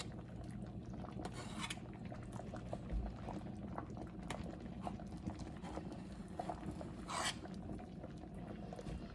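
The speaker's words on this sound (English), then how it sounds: "All right, so it's been boiling for about 5 minutes." A faint, steady bubbling of pozole verde simmering in a pot, with soft irregular pops and gurgles throughout.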